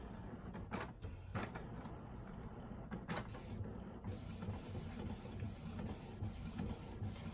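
A Canon MX922 inkjet printer prints PVC cards with a steady, close mechanical whir. Periodic sliding sweeps and clicks recur as the carriage moves, and no one speaks.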